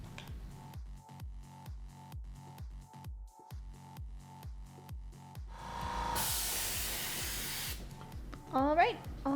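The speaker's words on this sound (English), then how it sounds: "I airbrushed the bell so that it is nice and silver" Airbrush spraying silver paint onto cosplay staff parts for Yuna's staff: a steady rhythmic pulsing hiss with faint tonal whine, then a louder continuous broadband spray burst near the end, followed by a brief whistling squeak.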